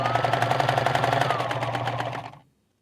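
A sewing machine stitches a necktie in rapid, even bursts of needle strokes for about two and a half seconds, close and steady, then stops abruptly into silence.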